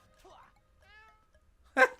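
A kitten gun in the game Adventure Time: Explore the Dungeon Because I Don't Know! gives a short, clear meow, followed by a brief louder burst, with a voice heard faintly at the start.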